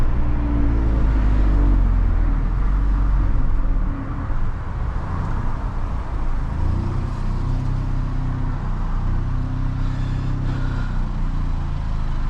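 A 400 BHP stage 2 Golf R accelerating hard, its engine note loud and close, rising steadily as boost builds, with harmonic bands climbing and a continuous roar of road and exhaust noise throughout.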